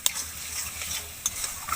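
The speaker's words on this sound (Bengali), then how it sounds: "আবারও একটু আমি ভালো করে কষিয়ে নেব।" A ground spice paste is stirred and fried for jackfruit curry with green peas, a spoon scraping the pan over a gentle continuous sizzle, with a few sharp clinks close by.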